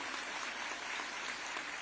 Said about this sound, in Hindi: आप सभी भरपूर तालियां मंच तक पहुंचाएं।